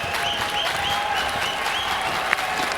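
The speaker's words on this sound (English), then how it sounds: "just listen to the NC State crowd now that the game is tied" A large NC State baseball crowd cheers and applauds steadily in a tied NCAA tournament game against Kentucky, a dense, sustained roar with scattered whistles and shouts, loud and continuous throughout.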